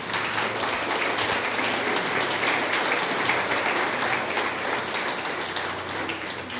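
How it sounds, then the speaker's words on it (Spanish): A church congregation breaks into strong, sustained applause, a dense, steady wash of many clapping hands that fades slightly toward the end. "Dale un fuerte aplauso a Dios."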